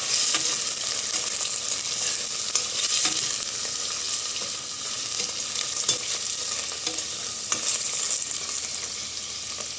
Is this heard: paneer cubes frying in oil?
yes